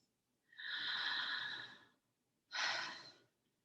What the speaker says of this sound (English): Maybe you just need to breathe.